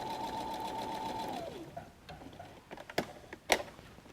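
A sewing machine runs a steady back stitch through messenger bag fabric, a close continuous whir that slows and stops, followed by a few sharp clicks and taps.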